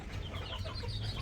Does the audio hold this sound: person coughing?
no